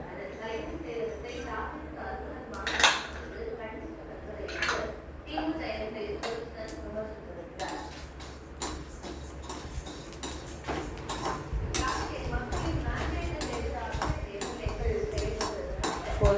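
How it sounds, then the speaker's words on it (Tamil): Rice and a single dried chilli are dry-roasted in a pan for Chettinad rice upma, the stirring spoon giving light, irregular metallic scrapes and clinks at close range. "இப்போ இதெல்லாம் அரிசியோடய சேர்த்து வறுத்துடலாம்."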